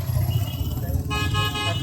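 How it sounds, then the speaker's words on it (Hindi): Busy road traffic with engines droning and a car horn honking in the second half, the tones sounding fairly close over a constant low rumble of passing vehicles. "गाड़ी की आवाज़ बहुत सुन लिए, बहुत हो गया। ये बहुत ही इरिटेटिंग है, सबसे ज़्यादा रोड।"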